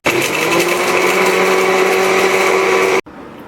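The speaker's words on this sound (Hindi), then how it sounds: "इन तमाम चीज़ों को ब्लेंडर में डाल लेंगे और इसका पाउडर बना लेंगे" A blender whirs steadily at high speed, grinding a quarter piece of nutmeg, four green cardamom pods and a small piece of mace into powder; the loud, even motor drone runs for about three seconds, then cuts off abruptly.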